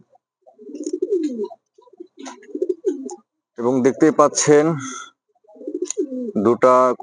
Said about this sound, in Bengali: দেখতেই পাচ্ছেন এখানে এক জোড়া কিং কবুতর